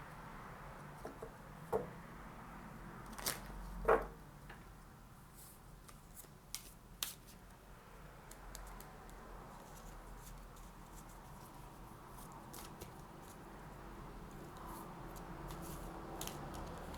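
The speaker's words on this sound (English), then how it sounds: "Shuffling off to the side." Soft tarot card shuffling with a few brief riffling snaps early on, then quiet rustling in a hushed room.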